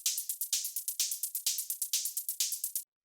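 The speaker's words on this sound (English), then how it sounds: "After that, we have the hi-hats, which sound like this." A steady, bright pattern of crisp electronic hi-hat hits, fast and evenly spaced with slightly stronger accents, stopping abruptly near the end.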